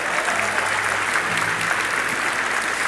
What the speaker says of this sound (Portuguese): Aplaude aí para valer